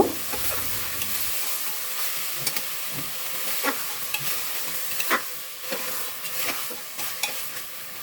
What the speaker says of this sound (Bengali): তেল দিয়ে একটু পেঁয়াজ কুচি ভেজে এর মধ্যে গোটা গরম মশলা একটু ভেজে নিয়ে